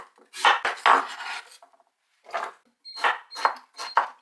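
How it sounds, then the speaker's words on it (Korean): A knife slices pear, apple and onion thinly for kimchi, producing bursts of crisp cutting and board taps in irregular groups, with a short pause midway and a faster run of chops near the end, close and fairly loud. "배 반 개, 사과 반 개, 양파 2개를 전부 얄팍얄팍 썰어줍니다."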